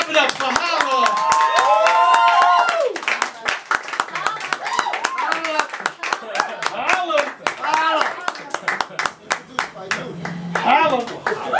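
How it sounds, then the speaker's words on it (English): Audience at a poetry reading on a small stage claps enthusiastically, sharp close handclaps rising and thinning out, with an emcee's voice and cheers mixed in throughout. "Put your hands together and welcome to the Inspired Word stage, Hala."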